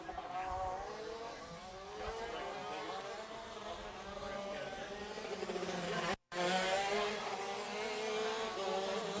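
Rok karts race on a Florida winter tour track at Jupiter, their small engines buzzing loudly and continuously with shifting revs as they pass, a brief cut near the six-second mark, and race commentary talking over the top.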